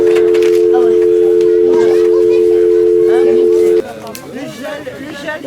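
A steady telephone dial tone hums loud and unbroken for several seconds in a village phone booth, then cuts off abruptly, leaving crowd chatter and voices around the booth.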